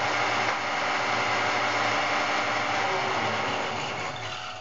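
Fehlmann Picomax 50 CNC milling machine spindle running at 1350 RPM, a steady, close mechanical whir and hum with a faint whine, continuous and alone, fading slightly at the end.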